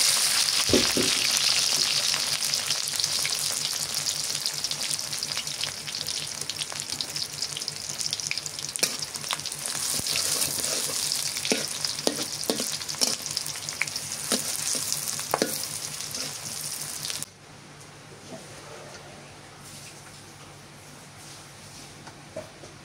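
Beef curry with pumpkin and garam masala sizzles loudly and steadily in a pan, with occasional sharp stirring clicks, before the frying quietens abruptly near the end.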